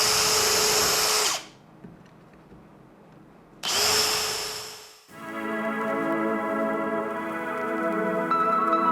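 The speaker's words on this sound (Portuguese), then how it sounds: "Fazer uma leve pressão e o pré-furo." Power drill boring a pilot hole into the frame of a compact Rivertools router table, two loud bursts of whirring with a pause between, followed by a steady lower-pitched motor hum with sustained tones.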